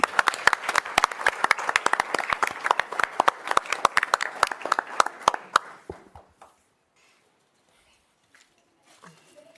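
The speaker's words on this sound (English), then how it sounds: "we'll give you a big round of applause" An audience at an MCSD presentation claps in dense, lively applause for about six seconds, then the clapping thins out and fades to near silence with a few faint sounds at the end.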